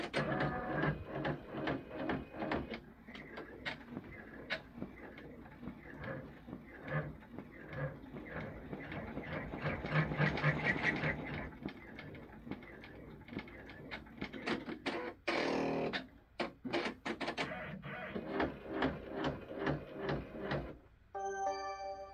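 An embroidery machine stitches a grommet placement line on a hooped candy cane ornament, a steady mechanical whirring and rapid needle ticking running throughout, with brief pauses near the end.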